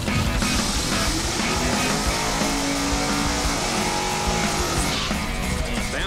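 A light turbocharged VW Bug drag car runs down the strip, giving a steady, loud, broadband engine and exhaust roar that carries through the whole run without any voices.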